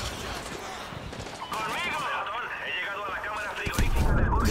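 Rocket launches and blasts in Call of Duty Modern Warfare 2 multiplayer, a burst of firing rising near the end amid battle noise, with someone talking excitedly over it.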